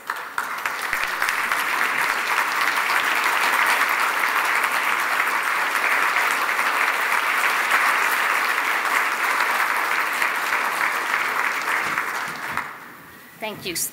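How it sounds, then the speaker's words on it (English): Audience applause at an association gathering for care partners, a sustained loud round of clapping that fades out near the end. "I'd like to give you a round of applause."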